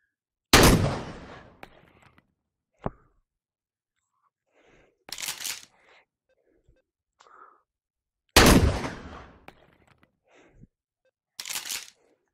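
Two shotgun blasts in the VR shooter H3VR, each a loud, close boom with a decaying tail, separated by smaller clicks and mechanical rattles of reloading and handling, with no speech.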